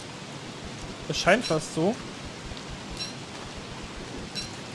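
Steady rain hisses across the whole stretch in the video game Don't Starve, a soft, even wash of noise, while someone speaks briefly over it near the start.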